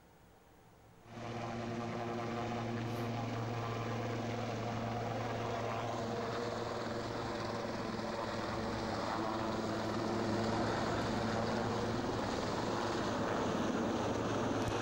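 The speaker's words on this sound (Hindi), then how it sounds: "पहले वो तस्वीरें देखिए जब ये हेलीकॉप्टर क्रैश लैंडिंग का शिकार हुआ।" A helicopter crash-landing after take-off. A loud, steady rotor and engine roar starts abruptly and holds near and constant with a droning hum, with no voices.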